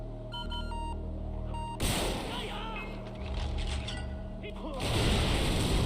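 Rocket launcher fired in Far Cry 4, a sudden loud blast breaking over quiet game tones, followed by rumbling explosions and debris, with a second heavy burst near the end.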